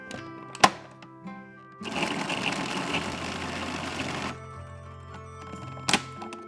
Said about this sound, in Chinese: 来绞肉，只需要一点点猪肉